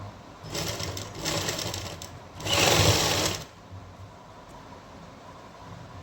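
A sewing machine stitches over fabric piping in three quick bursts of rapid mechanical whirring, the last one longest and loudest, with short quiet pauses between and no voices.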